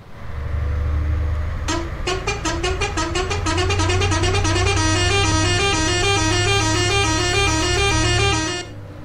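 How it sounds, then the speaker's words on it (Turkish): Air horn of a Mercedes Travego coach in Euro Truck Simulator 2, blaring in a rapid series of repeated honks that run for several seconds over a low engine drone, with no talking. "Havalı kornası desen zaten ayrı bir olay."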